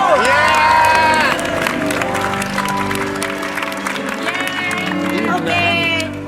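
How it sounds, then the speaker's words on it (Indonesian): Studio audience applause on an Indonesian Antv variety comedy show, loud clapping and cheering mixed with crowd noise and music throughout, with a voice calling out over it near the end. "tepuk tangan untuk Rinku"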